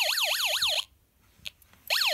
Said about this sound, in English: the alarm could be difficult to turn off